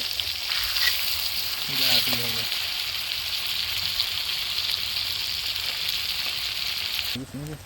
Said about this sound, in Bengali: মনে হয় আমাদের মাছ ভাজা একটা লট কমপ্লিট